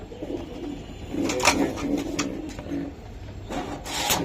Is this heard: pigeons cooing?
yes